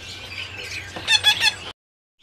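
A Javan parakeet gives a short burst of shrill, close squawks at a bird kiosk, then falls silent.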